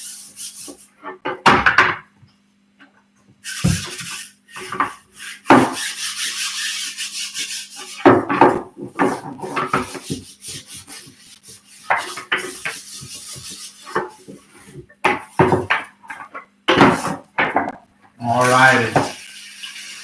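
Scales on a skipjack fish scrubbed and scraped with dish soap, in rough, irregular bursts of rubbing with pauses between.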